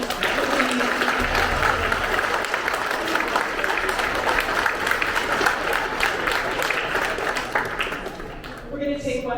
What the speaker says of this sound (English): join me in giving another round of applause for our veterans